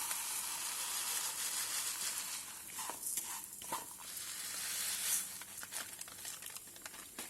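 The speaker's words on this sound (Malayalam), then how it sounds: "ഇനി ഈ സേമിയയുടെ കളറൊന്ന് മാറി വരുന്നത് വരെ നമുക്കൊന്ന് ഇളക്കി കൊടുത്തുകൊണ്ടിരിക്കാം." Vermicelli roasts with nuts in a pan for semiya custard, giving a faint dry sizzle and rustling crackle as it is stirred, with soft scraping strokes scattered throughout.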